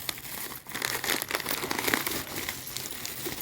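A plastic polythene bag holding biscuits and potato bhujia snacks being handled, giving a close, loud, continuous crinkling and rustling.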